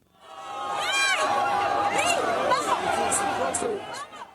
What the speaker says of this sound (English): That's cheering from a crowd of several hundred Spaniards very early this morning.